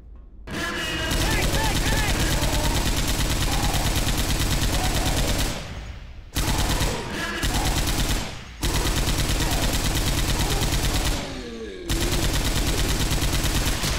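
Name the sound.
chain gun firing in the video game Left 4 Dead 2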